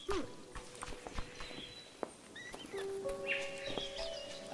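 In the video game Only Up!, a bird chirps in short high calls and whistles over faint ambience, with thudding steps and a voice talking nearby.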